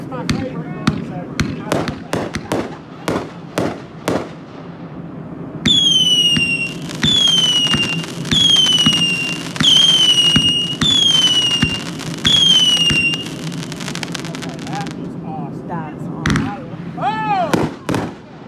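A Miracle Fireworks cake fires a rapid series of sharp bangs, followed by whistling shots and dense crackling bursts, loud and close, with people talking over the display.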